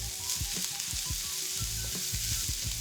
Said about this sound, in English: toss it immediately because you want all the veggies to come in contact with the hot surface of the pans